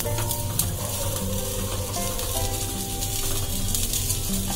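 An aloo paratha fries in oil on a pan over medium flame, giving a continuous close sizzle with crackle and steady hiss under faint tonal hum, without talk.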